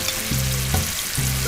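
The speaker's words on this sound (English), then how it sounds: "When the oil has warmed up, I begin to put the balls in there. And they're frying almost immediately." Small dough balls frying in hot oil, a constant close sizzle and crackle with a few brief bubbling pops.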